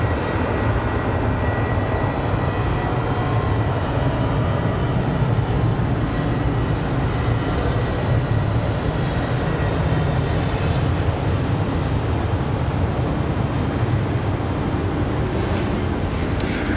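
An aircraft, Amoa 1, taxis at Raleigh-Durham airport at night, giving a steady broadband engine rumble and roar that holds constant and fairly loud throughout with no talk over it.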